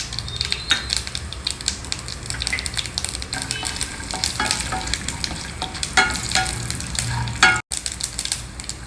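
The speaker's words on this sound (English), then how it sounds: "Just fry till all the nuts are well done" Groundnuts, urad dal and chana dal fry with mustard seeds in a tablespoon of oil in a pan, giving a steady close sizzle with crackles and pops and occasional scraping stirs, and no talking.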